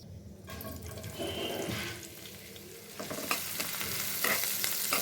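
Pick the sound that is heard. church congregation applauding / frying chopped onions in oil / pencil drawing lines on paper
frying chopped onions in oil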